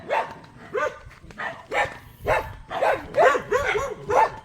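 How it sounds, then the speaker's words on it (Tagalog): Several dogs on a farm lot in San Ildefonso, Bulacan bark in repeated, close bursts, some yips and whimpers mixed in, with short pauses between barks. "Ang problema, marami aso."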